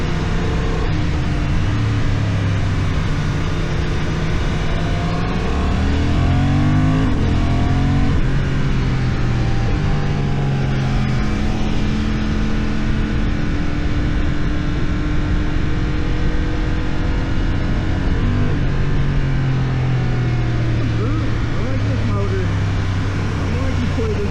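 A 2025 Honda CB750 Hornet motorcycle being ridden, its engine note rising and falling through gear changes under steady loud wind and road roar, continuous throughout.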